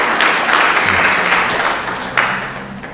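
A church congregation breaks into cheering and applause together, a dense wash of clapping and voices that stays loud for about three seconds, with a fresh burst near the end.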